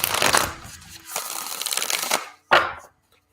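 Crisp riffling and slapping of tarot cards being shuffled, two bursts close to the mic with a short pause between them.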